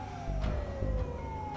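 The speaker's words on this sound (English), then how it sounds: "I could faintly hear police car sirens in the distance." A police siren in a video game wails faintly in the distance, its tone sliding slowly downward beneath a low background rumble.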